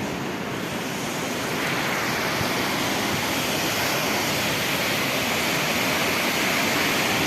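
A waterfall in the Stepanavan gorge in Armenia gives off a steady, even roar of rushing water that fills the whole stretch without a break. No voices can be heard.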